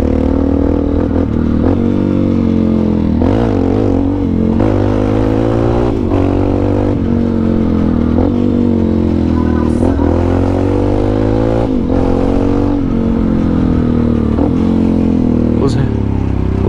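A Yamaha Lander 250 motorcycle being ridden, its steady engine drone rising and falling with throttle changes, close and loud throughout, with a voice talking over it now and then.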